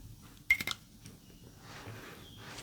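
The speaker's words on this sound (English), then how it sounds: "Spray time." Antonio Banderas The Golden Secret fragrance is sprayed in one short burst of mist from the atomizer, followed by a couple of softer puffs, close up in a quiet room.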